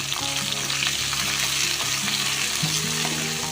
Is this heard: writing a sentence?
no